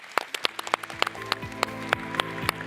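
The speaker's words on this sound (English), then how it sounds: "a warm round of applause for our wonderful panel" Applause for a panel in a plenary hall at an internet governance forum, with scattered sharp claps over a low hum and a held tone, a handful of hands clapping unevenly rather than a full ovation.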